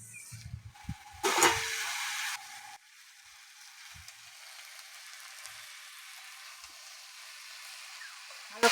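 Red amaranth greens sizzle as they fry in a pan, with a loud burst of hissing for about a second and a half that drops to a steady, softer sizzle, plus a little clatter near the start.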